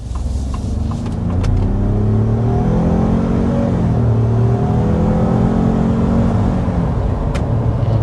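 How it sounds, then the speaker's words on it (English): A 2026 Ford F-150 Platinum pickup truck accelerating hard uphill, a loud, close engine roar whose pitch climbs through several gear steps over about eight seconds, with no talking. "we need to go ahead and start with a hard acceleration"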